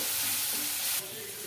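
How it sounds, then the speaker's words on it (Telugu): Onions and curry leaves fry in hot oil for a drumstick masala gravy, giving a steady close sizzle with stirring that drops slightly in level partway through. "కరివేపాకు వేసుకొని ఆనియన్స్ బాగా గోల్డెన్ కలర్ వచ్చే వరకు ఫ్రై చేసుకున్నామండి"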